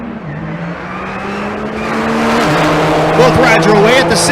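Drag racing cars launch down the strip at Bandimere, engines rising into a loud roar with a pitch climbing as they pull away, heard together with an announcer talking.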